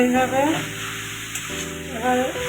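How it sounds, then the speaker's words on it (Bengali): Vegetables sizzle and fry in a pan with spices, salt and turmeric, a steady close crackle with a stirring scrape, under a clear, tonal background sound. "এভাবে এটাকে নেড়ে চেড়ে সুন্দর করে ভেজে নেব।"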